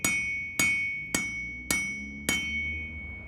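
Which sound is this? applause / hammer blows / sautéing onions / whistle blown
hammer blows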